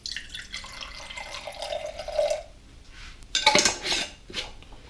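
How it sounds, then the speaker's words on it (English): Willow water solution poured from one jar into a smaller glass jar, with glassy clinks and clatter and a trickling splash, then a louder clatter of glass near the end, all close and without talk. "I'm going to pour a little bit of this off into another smaller jar to use now."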